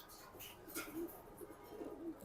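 A racing pigeon coos softly in a few low, rounded calls, faint and close, with quiet background noise around it.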